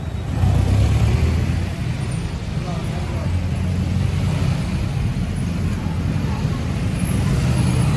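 Steady street traffic in Pasig, a continuous low rumble of cars, buses and trucks passing close by, with voices talking over the road noise.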